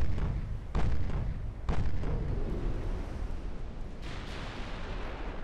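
Heavy explosions from torpedo hits on a ship in the naval game Ultimate Admiral: Dreadnoughts, two deep booming bursts early on and a third later, each followed by a long rumbling decay under a constant low roar.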